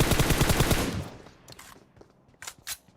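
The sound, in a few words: gunfire in PUBG Mobile video game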